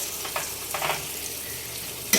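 Turmeric powder, ginger water and garlic water poured into a pan of sizzling chicken for biryani, a steady close frying hiss with brief louder bursts as the liquids hit the hot oil.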